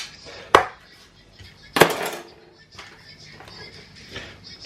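Two sharp knife chops on a cutting board while onions are shredded for apple slaw, close and crisp, followed by faint softer cutting and rustling.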